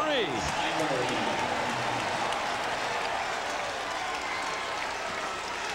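A crowd at a 2001 NCAA Tournament second-round basketball game applauds and claps in a steady, dense roar that holds throughout, with a commentator talking over it.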